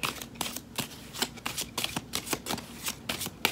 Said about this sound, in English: Clarify with the Chrysalis Tarot deck.